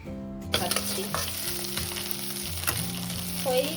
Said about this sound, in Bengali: প্রথমেই পেঁয়াজটা ভেজে নিচ্ছি